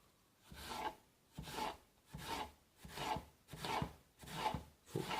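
A knife slicing apples into thin slices, producing six or seven evenly spaced rasping cuts, each a steady scrape through the firm fruit, close and clear with no talking.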